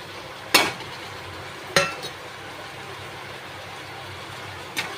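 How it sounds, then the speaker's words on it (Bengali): Chicken curry with coriander leaves in a pot being stirred with a spoon: three sharp metallic clinks spaced over a few seconds against a quiet, even kitchen background. "দিয়ে একটু ভালো করে নেড়ে চেড়ে নেব।"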